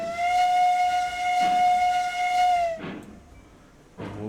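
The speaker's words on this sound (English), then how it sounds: "And hit the whistle." A steam locomotive whistle in the Railroads Online game sounds one long, loud, steady tone for close to three seconds, then cuts off. Brief hissing bursts follow, one of them a second later.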